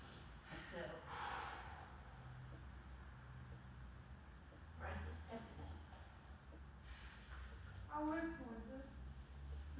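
A deep inhale during a yoga breathing practice, with several soft, airy breaths spread across the clip at moderate closeness, under a steady low background hum.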